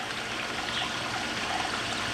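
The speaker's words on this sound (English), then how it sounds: "pumping fish waste directly into this here small pond this year" Water pumped up from the bottom of a pond pours steadily into a small koi pond, making a constant close splashing trickle with no pauses.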